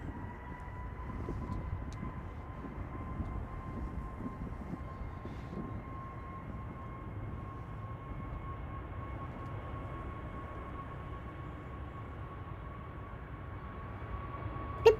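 An EasyJet Airbus A320neo lined up on the runway at Manchester Airport hums from a distance, a faint steady whine over a low broadband rumble that holds evenly throughout with no talk.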